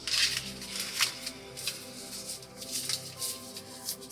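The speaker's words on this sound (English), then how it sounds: "So I'm going to shuffle these cards." Tarot cards being shuffled by hand, a soft papery riffling and slapping that comes in repeated short bursts, close and quiet, with no one speaking.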